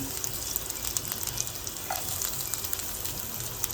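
Ginger and garlic hit a little hot oil in a pan, giving a steady, crackling sizzle with scattered pops and spits that runs throughout, close and fairly loud.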